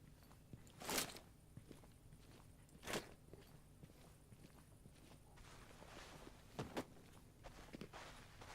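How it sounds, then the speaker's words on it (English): Enemy footsteps in Sniper Ghost Warrior 3: a few distinct thuds at around one, three and 6.7 seconds stand out over a low, steady game ambience, with a couple of fainter steps in between. "It is not, because I'm hearing footsteps."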